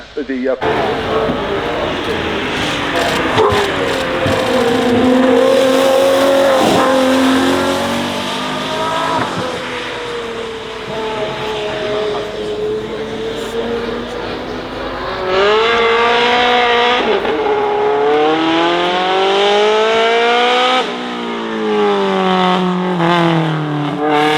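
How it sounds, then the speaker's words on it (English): A Ferrari V12 race car with more than 800 horsepower, out on a wet hill course, its engine note climbing and falling through repeated revs and gear changes, loud and close, with someone talking over it. "V12 engine, more than 800 horsepower."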